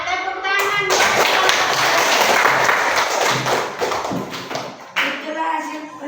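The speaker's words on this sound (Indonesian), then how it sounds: "iya, tepuk tangan." Sustained applause and scattered clapping from a classroom audience after a group presentation on Hajj, dense and steady for several seconds before tapering, with a voice briefly speaking at the start and end.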